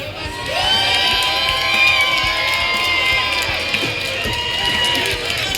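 A convention crowd at the Fanime 2022 cosplay wrestling show cheers and whoops steadily, with shouts and yells rising over a continuous roar.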